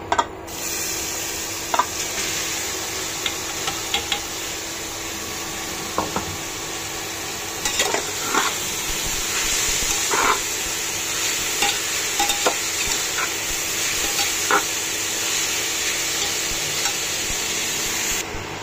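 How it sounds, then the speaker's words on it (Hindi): Grated carrot stirred and frying in hot ghee for gajar halwa, a steady soft sizzle with repeated scraping and stirring clicks all the way through. "घी हमारा गर्म हो चुका है अब मैं ये घिसी हुई गाजर इसमें ऐड करूंगी"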